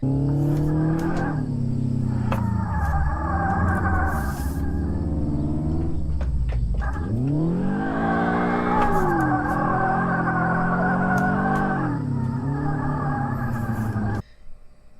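A drift car in the video game Drift 21 revs hard and holds a loud, steady engine howl, dips as it shifts and climbs again, with tire squeal; the sound cuts off at the end.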